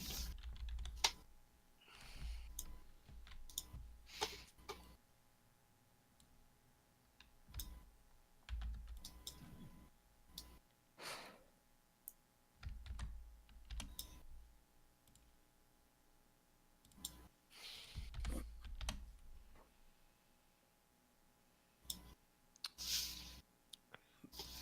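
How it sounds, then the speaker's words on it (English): Irregular bursts of clicking keys as someone types on a computer keyboard, close and fairly quiet, with pauses between flurries. "I'm typing things to different people."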